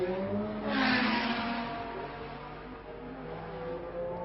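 Vintage 1966 Formula 1 race cars at the French Grand Prix sweep past on track, a loud engine surge peaking early then settling into a steady, droning roar of several cars at speed.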